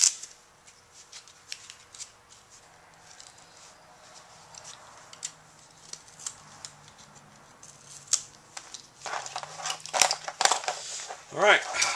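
Scissors trimming a clacker glove make a run of quick, crisp snips and rustles at close range, growing busier near the end, with a voice heard at times.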